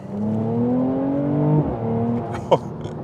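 A Mercedes-AMG C43 in Sport Plus mode with its exhaust valves open, the engine note droning and rising steadily from close by, then dropping off before a brief sharp burst near the end.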